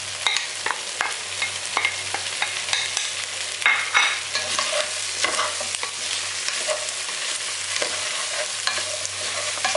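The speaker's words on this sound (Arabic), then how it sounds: "هنزل بقى بالبصل اللي احنا عملناه" Onions sizzle loudly in a pan with trotters, a spoon or spatula scraping and stirring in repeated strokes, close and continuous with no talking.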